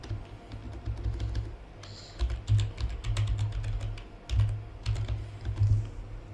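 Close, steady bursts of keystrokes on a computer keyboard as a material name is typed, the clatter rising and pausing in short uneven runs.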